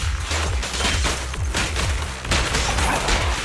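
Gunfire in the video game Zenless Zone Zero comes as rapid bursts of shots with low booming impacts, dense and loud, repeating throughout with small pauses between volleys.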